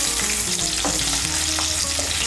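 Cauliflower pieces frying hard in hot oil in a kadai over raised heat, a loud continuous sizzle with occasional stirring scrapes and clinks throughout.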